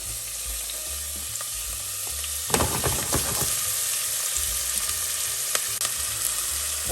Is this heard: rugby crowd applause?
no